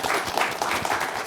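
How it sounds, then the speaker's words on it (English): Audience applause at a State of the Union event on HBCUs, HSIs and TCUs, a dense, steady wash of many hands clapping at once, loud and close, filling the short moment without any voices. "Let's give her a round of applause"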